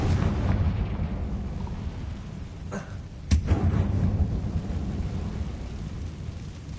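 A Confringo fire spell blast in Hogwarts Legacy goes off as a sharp burst followed by a short rumbling explosion, set against a steady low game ambience. No one speaks.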